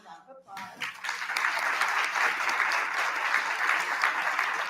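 A TEDx audience breaks into applause, building quickly from a few claps into a sustained, even roar of clapping that continues to the end; a voice is briefly heard under the clapping.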